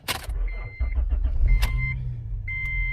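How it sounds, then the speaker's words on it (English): An Acura TL started using a flip key: a short click and whir, then the engine cranks and catches, settling into an idle, with electronic chimes sounding over it. "And it works, and it starts the car also."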